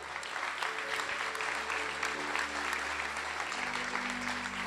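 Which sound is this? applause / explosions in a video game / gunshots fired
applause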